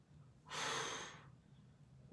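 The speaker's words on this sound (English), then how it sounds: "Really using that breath." A single sharp, breathy exhale through the mouth, made during an oblique crunch twist in a workout, rises quickly and fades within about a second against a quiet background.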